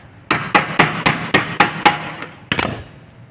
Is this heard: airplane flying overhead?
no